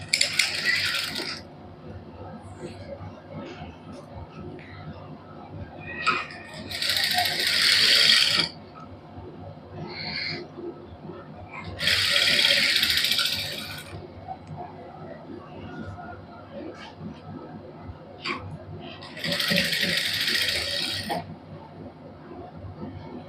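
A sewing machine stitches lace onto a plain suit in four separate bursts of rapid, close mechanical clatter, with quieter handling and fabric noises in the pauses between runs.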